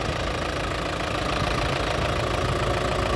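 A New Holland TD95D four-cylinder tractor engine idles steadily, a low continuous chugging rumble close by with no other sounds over it.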